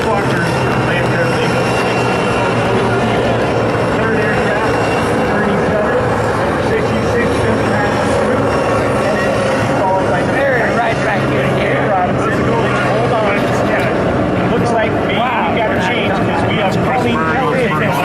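An airplane flying past at the Reno Air Races, a steady loud engine drone running throughout, with a public-address commentator talking continuously over it.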